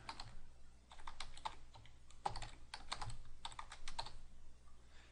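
Typing on a computer keyboard while entering database user details, a quiet close run of rapid clicky keystrokes with brief pauses, over a low steady hum.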